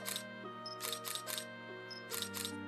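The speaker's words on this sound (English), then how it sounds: "that shutter noise is hella loud" Camera shutter in the video game Pom Gets Wifi, several loud, crisp clicks in three quick clusters over a soft, steady musical backdrop.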